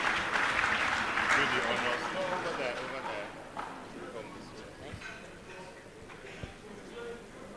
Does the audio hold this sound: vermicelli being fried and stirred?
no